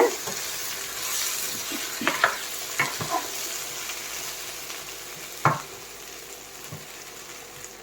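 Stirring aviyal vegetables in a pan, with a spoon scraping and clinking against the pan several times in irregular strokes over a soft, continuous sizzle.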